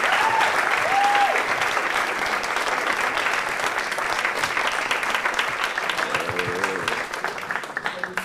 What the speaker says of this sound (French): Un maximum d'applaudissements, s'il vous plaît.